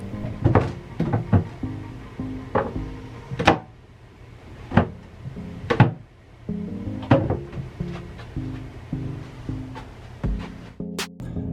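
Wooden cabinet doors on a DIY coffee bar cabinet swing open and shut repeatedly, giving a series of sharp knocks and clacks at an irregular rhythm, close by, with music playing underneath.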